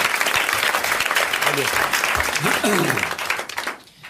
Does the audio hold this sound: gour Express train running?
no